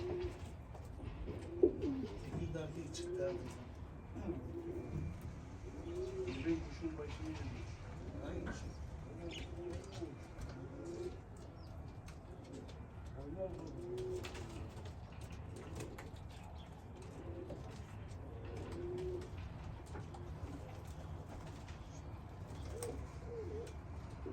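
Tumbler pigeons coo in low, rolling murmurs throughout, steady and fairly close, beneath a soft background hum with a few faint knocks.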